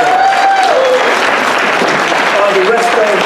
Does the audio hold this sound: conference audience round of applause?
yes